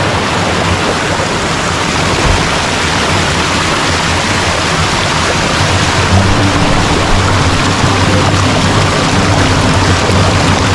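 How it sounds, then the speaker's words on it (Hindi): Water rushing downhill in Ziro Valley, a loud continuous roaring flow like a stream or small cascade, close and unbroken for the whole stretch with no voices. "ये पानी नीचे होके नीचे जा रहा"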